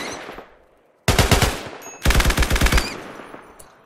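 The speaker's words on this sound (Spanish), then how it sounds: "vamos a disparar." Automatic gunfire in the RimWorld video game rattles out in two rapid, loud bursts of about a second each, separated by a short gap, with no talking over it.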